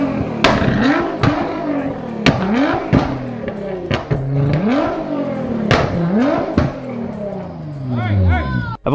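A tuned 680-horsepower Nissan GT-R with a titanium exhaust being revved repeatedly, sharp engine blips rising and falling in quick succession, loud and close, with crowd chatter in the background.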